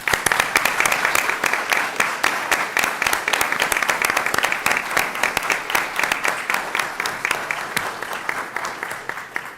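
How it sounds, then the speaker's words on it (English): A city council meeting audience claps for honored officers, many distinct hand claps forming a lively, rhythmic burst of applause that holds steady and close, with a few faint voices underneath. "Everybody join me in applauding these gentlemen."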